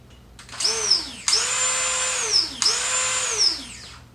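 A power drill bores into the heavy side of a flywheel to take off metal for balancing, three loud close bursts, each spinning up to a high whine and then winding down.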